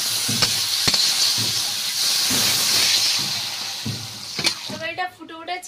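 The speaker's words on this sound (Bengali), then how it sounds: "এবার জল ঢেলে দিচ্ছি।" Water poured into a hot pan of curry after the tomatoes are cooked down, giving a loud, sustained steamy hiss up close, broken by sharp clicks and knocks, with bubbling and spattering toward the end.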